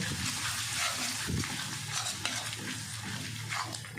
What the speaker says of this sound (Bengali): এবার সমস্ত কিছু ভালো করে কষিয়ে নিতে হবে।